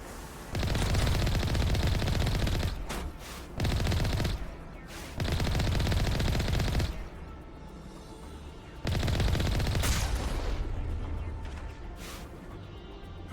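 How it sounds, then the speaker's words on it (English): Bursts of rapid gunfire from the video game Mass Effect, loud and sustained in several long volleys separated by brief pauses, with lighter shots continuing between them. "Who's shooting?"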